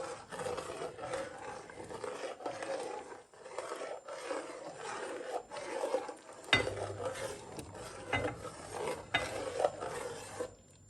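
A spoon scrapes and clinks around a pot of gajar kheer, carrot rice pudding, as milk is stirred in, a steady close rhythm of metal-on-pot scraping with a sharper clatter partway through, no talking.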